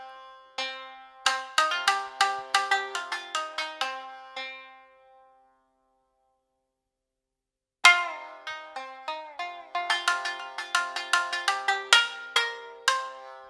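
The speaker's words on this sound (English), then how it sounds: "This mode is enabled with the sustain pedal. While the sustain pedal is pressed, key off events will trigger upstrokes, and key on events will trigger downstrokes" Tsugaru shamisen sample played in alternate picking mode, with upstrokes and downstrokes alternating for a smoother, less percussive articulation. Two bursts of rapid, bright plucked notes come through clearly, separated by a silent gap of about three seconds.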